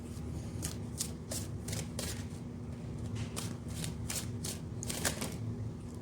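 Tarot cards are shuffled by hand at close range, a rapid run of crisp riffling flicks and slaps repeating over several seconds, with no talk.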